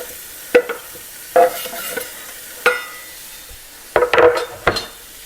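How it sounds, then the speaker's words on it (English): Bacon sears in a lightly oiled skillet with a faint sizzle underneath, broken by several sharp utensil scrapes and clinks against the pan at irregular intervals. "So I want to get a nice sear on the bacon here."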